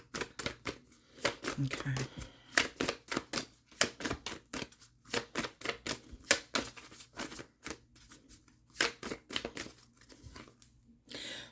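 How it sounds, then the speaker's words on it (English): Oracle cards pulled and shuffled from a deck, giving a long run of quick, close papery snaps and riffles in an uneven rhythm, with a person speaking briefly over the card handling. "I'm going to pull an oracle card for you and see what comes out."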